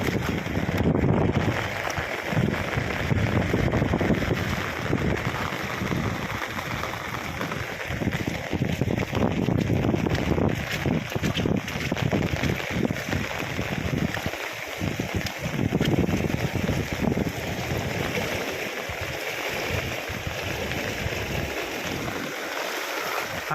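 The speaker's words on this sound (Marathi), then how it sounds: "वारा खूप आहे" Continuous roaring, buffeting wind rumbling into the microphone during a village flood in torrential rain, mixed with rushing water, loud and unbroken throughout.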